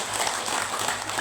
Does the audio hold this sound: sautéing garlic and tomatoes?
no